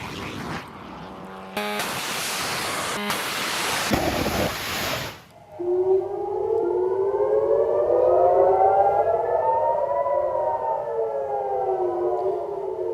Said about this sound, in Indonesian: Sirene berbunyi di seluruh kota Haifa